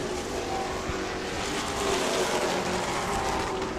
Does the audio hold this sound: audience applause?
no